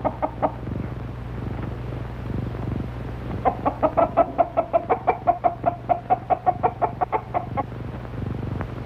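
Hens cluck in a quick rhythmic run of short repeated notes in a 1937 film scene, rising in the middle then trailing off over a low steady hum.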